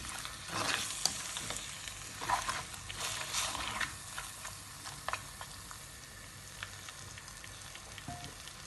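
Mutton being turned with turmeric powder in a pan, a busy crackling sizzle with bursts of scraping stirs early on that settle into a quieter steady fry, heard close with no speech.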